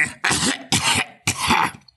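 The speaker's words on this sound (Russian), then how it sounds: "Смех же окончился кашлем" An audiobook narrator performs three harsh, forceful coughs with short gaps between them, close and loud, acting out a laugh that ends in a coughing fit.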